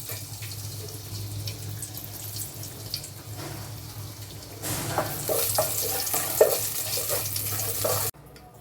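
Whole spices frying in refined oil and ghee in a saucepan give a steady soft sizzle with occasional stirring scrapes, growing louder and brighter partway through before cutting off abruptly near the end.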